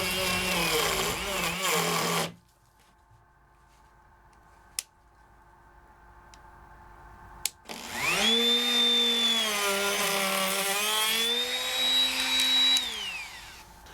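A Ryobi ONE+ compact fixed base router cutting wood, running loud and close in two bursts, with a shrill whine that sweeps up and holds, separated by a quiet gap with a few sharp clicks.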